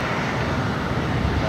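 A fixed-wing airliner takes off at LAX, a steady broad jet roar filling the short moment, with a voice faintly underneath.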